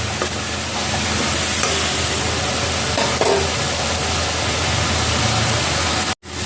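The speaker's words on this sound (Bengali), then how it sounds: "এবার এটা একটু ভাজা ভাজা হয়ে যায়, তেলটা ছাড়া পর্যন্ত এটাকে কষিয়ে যাব।" Cumin and coriander spice paste fries in hot oil, a steady, dense sizzle that runs nearly unbroken for several seconds, with occasional stirring scrapes, before a brief cutout near the end.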